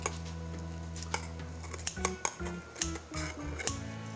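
A knife slices through a crispy pan-fried napa cabbage pancake, making a series of sharp crunchy cracks close up, irregular and spaced, over a low steady hum.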